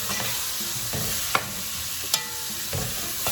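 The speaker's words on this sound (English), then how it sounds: "I'm going to add all my veggies" Chopped vegetables fry in a hot pan for Puerto Rican-style rice with salami, a steady sizzle broken by a few sharp scrapes and clinks of a spoon as they are stirred.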